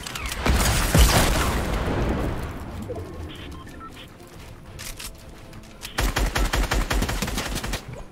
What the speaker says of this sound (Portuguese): Ainda deu pra acertar o tiro de rifle de caça nele